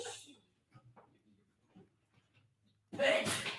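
A single loud, sharp sneeze bursts out near the end, after a stretch of faint murmuring and quiet background sounds during a math lesson.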